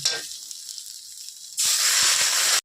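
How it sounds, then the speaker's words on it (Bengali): Soybean chunks fry with a soft, steady sizzle in a pan until water is poured in, setting off a sudden loud, sustained hiss and spitting that runs to the end. "তা আমার সয়াবিন এখন কষানো হয়ে গেছে, এখন আমি জল দিয়ে দিই।"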